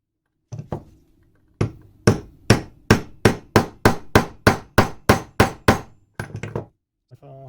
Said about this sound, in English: So I just got to hammer it in.